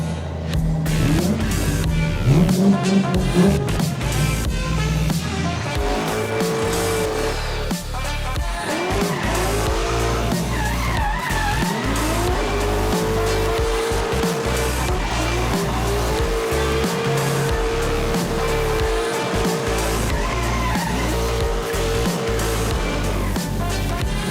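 Rally car on a race track at Madžiūnai, with tires skidding and squealing continuously under loud, revving engine noise for the whole stretch.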